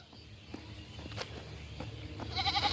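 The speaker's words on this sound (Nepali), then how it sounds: "म्या गर्ने बाख्रा" A goat bleats faintly amid low rustles and a few footstep-like knocks, the quivering calls growing louder toward the end.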